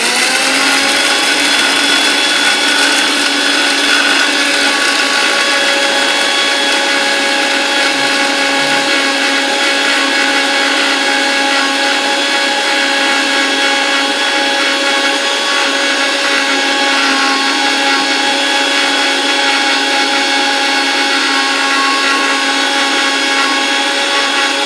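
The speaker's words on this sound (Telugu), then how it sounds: "సో ఈ మొత్తంని మిక్సీ పెట్టుకొని పొడి చేసుకోవాలి" A kitchen mixer grinder grinding fenugreek seeds into powder, a loud steady whirring drone that runs unbroken from start to end, with no talk.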